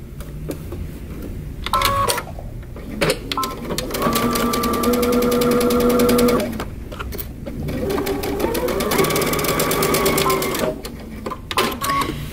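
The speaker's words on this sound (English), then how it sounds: "I'm going to stitch the other shoulder the same way." A sewing machine stitches the shoulder seam of a tee shirt or vest in two close, rapid runs of whirring stitches, separated by quieter pauses with a few clicks and handling noises.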